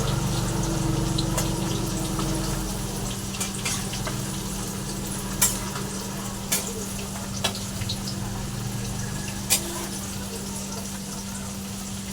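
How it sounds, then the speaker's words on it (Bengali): Potatoes fry in a pan while being stirred, giving a steady sizzle with a low continuous hum beneath and a few sharp scrape clicks from the utensil, no talking. "আলুটা আমি একটু নেড়ে নিই"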